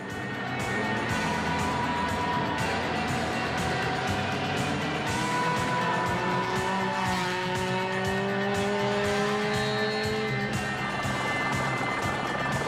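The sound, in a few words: rally car driving a stage, Ford Escort GT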